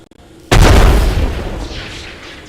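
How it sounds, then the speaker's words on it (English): A frag grenade detonates in the System Shock Remake video game, one sudden loud blast with a heavy low boom that rolls on and slowly fades over the following two seconds. "So we have our frag grenades, so we're going to go ahead and use those."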